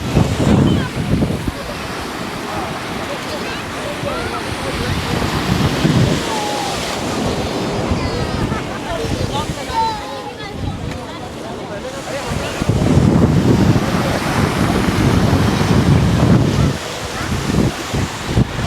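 Ocean waves surge and wash up on Seaside Heights beach at the Jersey Shore, loud and close, with wind buffeting the microphone. Voices are heard faintly in the background.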